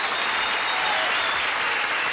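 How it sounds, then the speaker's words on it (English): A studio audience applauds steadily, a dense, even wash of many hands clapping that holds at constant loudness with no breaks, and nobody speaks over it. "Let's give him a big round of applause,"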